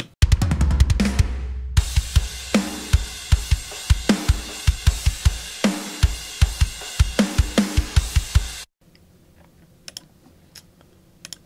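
Metal drums with the snare hits limited, playing a driving pattern of kick, tight snare and crashing cymbals for about eight seconds, loud and close, then cutting to near silence.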